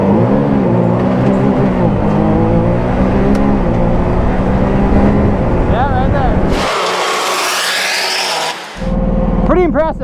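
Can-Am Maverick R side-by-side accelerating hard from 0 to 60, a loud rising engine roar that climbs through gear changes and breaks off near the end, with a brief voice partway through.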